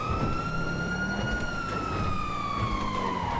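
A police car siren in a video game wails steadily with a rising and falling tone, loud and continuous, over a low engine rumble.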